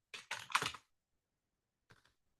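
Quick clusters of computer keyboard keystrokes during a CCNA networking command-line demo, a dense burst of close clicks followed after a pause by a brief second flurry.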